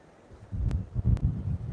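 Breezy wind gusting across a beach on Sanibel, a low continuous rumble that swells after a quiet start, with two brief sharp clicks, no voices.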